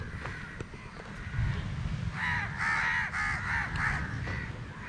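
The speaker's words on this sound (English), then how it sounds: "these crows making some noise" Crows caw from outdoors at a campsite property in India, a run of harsh, overlapping calls at moderate distance that repeat in quick succession over steady background noise.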